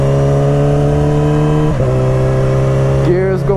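Yamaha R6 sport motorcycle engine revving hard under load with a loud, high-pitched whine, briefly dipping as it shifts up through gears with a quick shifter, recorded close while riding.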